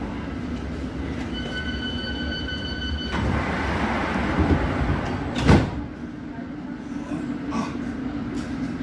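A London Underground Hammersmith and City Line train to Barking runs near Goldhawk Road with a steady loud rumble, brief tonal whine, a surge of noise midway and a sharp clunk, with an announcement voice heard over it.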